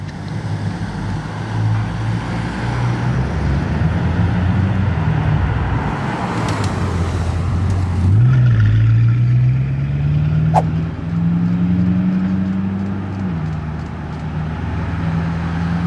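A convoy of Bugatti cars, including Mistral models, driving through a village, heard as a loud rushing engine roar that swells and drops in pitch as the cars pass close by, with wind buffeting throughout.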